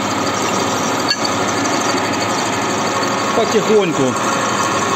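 A milling machine works on a dump truck subframe with a loud, steady mechanical drone and a brief whine that shifts near the end, while someone speaks briefly over it.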